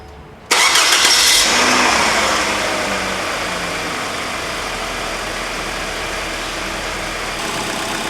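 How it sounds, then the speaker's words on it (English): A Kia Spectra with the 1.8L DOHC engine, just after a timing belt replacement, cranks briefly and catches, then settles into a steady, smooth idle heard up close with no talking. "Now we're just gonna start the car."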